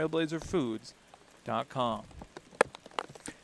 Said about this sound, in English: That is, in fact, the rain hitting our crowd mics.